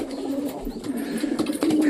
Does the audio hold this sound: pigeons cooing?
yes